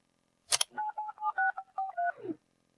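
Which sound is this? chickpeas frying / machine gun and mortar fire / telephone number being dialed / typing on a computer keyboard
telephone number being dialed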